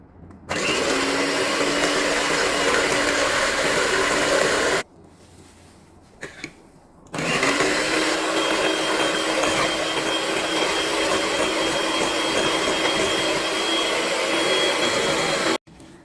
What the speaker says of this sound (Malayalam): മുട്ട നമുക്കൊന്ന് ബീറ്റ് ചെയ്തെടുക്കാം കേട്ടോ.